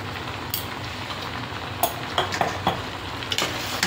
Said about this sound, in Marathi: भाजी छान परतून झालेली आहे